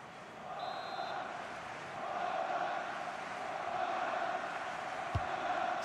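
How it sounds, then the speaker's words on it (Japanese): Stadium crowd in the football video game FIFA 21, at a EURO 2020 group match between France and Germany, roars in a steady, dense wash of cheering that swells slightly and then holds, fairly distant. "ベンチに下がる選手にスタンドからは大歓声が上がります。"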